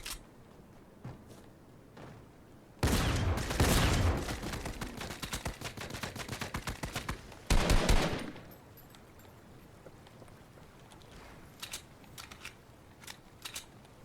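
Rapid automatic gunfire in a shooter video game rattles loudly for several seconds, followed by a short heavier burst and a few scattered single shots.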